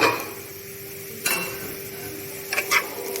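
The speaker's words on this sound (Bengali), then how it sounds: "এবার আমি ঢাকাটা খুলে দেখে নেব" A lid lifted off a pot of papaya simmering for sweet pulao, a metallic clank followed by a couple of light clinks over a soft background simmer.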